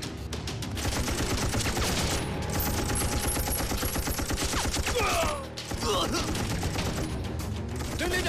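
Sustained machine gun fire in a war drama battle scene, rapid continuous bursts mixed with other gunshots, loud and dense throughout with a brief dip near the middle, voices shouting faintly beneath.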